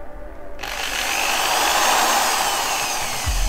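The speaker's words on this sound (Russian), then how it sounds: "может быть сейчас и рассверлим вот эту маленькую" A power drill whirs steadily and loudly after a brief quiet start, its motor pitch holding level for a few seconds before a low thump near the end.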